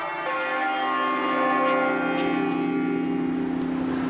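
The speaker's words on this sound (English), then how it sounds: "the bells are rung every week by a group of bell ringers who work in the city" Church bells rung by a team of bell ringers in a London church sound as a sustained, resonant ringing that swells and overlaps, moderately loud with no talk.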